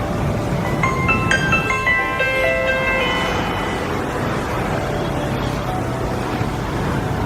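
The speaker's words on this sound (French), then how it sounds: "Les motos passent dans l'espace de la page." Motorbike engines hum and drone steadily along a busy Saigon street, a dense continuous traffic roar with a few brief horn-like tones near the start.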